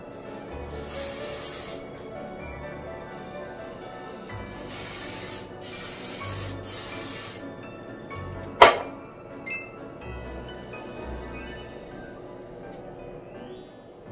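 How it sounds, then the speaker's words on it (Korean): A hair dryer blows on a person's hair in short, repeated bursts of breathy rushing air, switching on and off, with a sharp clack partway through. "일단 머리 말려볼게요."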